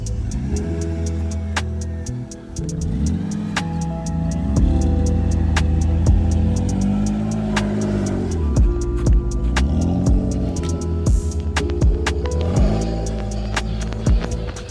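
A project car's engine idles steadily once oil pressure builds, a low throbbing rumble close by with occasional sharper ticks and clicks layered over the running motor.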